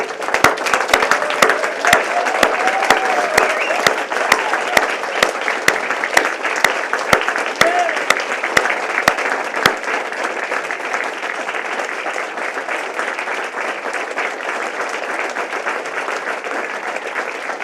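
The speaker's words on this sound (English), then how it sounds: "one long, big round of applause for our diplomates" A large audience at a surgical diplomates' graduation ceremony of the Royal College of Surgeons of England gives a long, sustained round of applause, dense and steady throughout with a few sharper claps standing out near the start.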